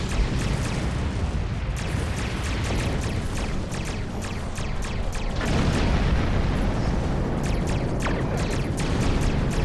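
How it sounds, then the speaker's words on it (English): Continuous heavy rumble of starships exploding in a space battle in the game Star Trek Online, with loud booms and crackling bursts layered over a dense, steady roar throughout. "Ship explosions cause damage. Put some distance between yourself and exploding ships."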